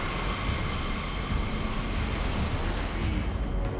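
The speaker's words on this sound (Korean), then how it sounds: "파도가 약간 파도 속으로 들어가는 수준" Rough East Sea waves break and wash steadily around a small boat, a dense, loud, continuous roar of churning water with no voices over it.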